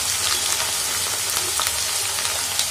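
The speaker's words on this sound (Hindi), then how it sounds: "बीच बीच में इस तरीके से भून लेना है" Poi saag greens sizzle and fry steadily in a pan, a close, continuous crackling hiss with no talk over it.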